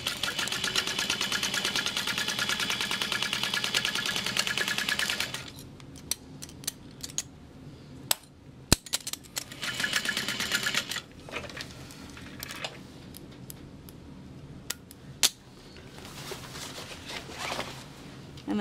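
A sewing machine stitches a bag lining in a steady mechanical whir for about five seconds, then gives shorter runs separated by quiet gaps and sharp clicks.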